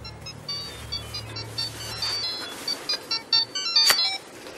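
A telephone ringing with a bright electronic trill, repeated ringing bursts growing louder toward the end, heard over a low hum that fades out partway through.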